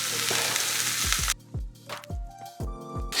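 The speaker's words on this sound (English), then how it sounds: "Let those onions start cooking." Onions and tomatoes fry in a hot pan beside a steak: a dense hiss that suddenly drops away, followed by soft thuds and clinks of food and utensils shifting in the pan, close up.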